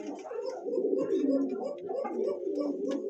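Silver Lahore pigeon cooing close by in soft, repeated throaty rolls over a low murmur, with faint background chatter.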